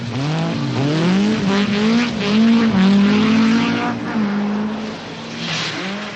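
An Opel Manta rally car, the AC Delco entry, howls along a Welsh forest rally stage in 1985, its engine note rising and falling through gear changes, loud and close for several seconds.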